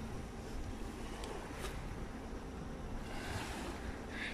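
Surf washes onto Pantai Serasi beach, a continuous roar of breaking waves mixed with gusty wind rumbling on the microphone, with no voices.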